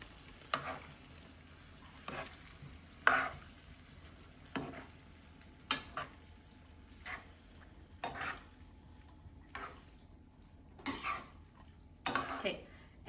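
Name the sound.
tongs tossing glass noodles with sauce in pan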